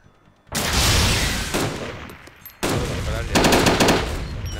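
Loud, close bursts of rapid machine gun fire in the video game Arma 2, long rattling volleys with a brief pause between them.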